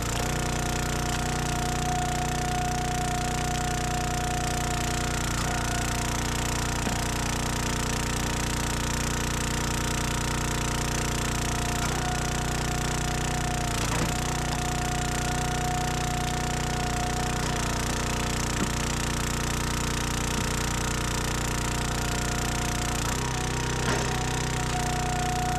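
A log splitter working through ash firewood, a loud, unbroken mechanical drone with a steady tone that runs the whole stretch with only slight shifts, no speech.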